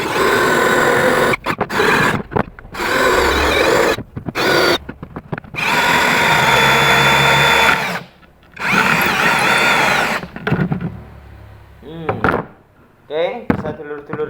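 An APR power drill bores into stone in loud, sustained bursts separated by brief pauses, each run grinding steadily before cutting off, with scrapes and knocks between.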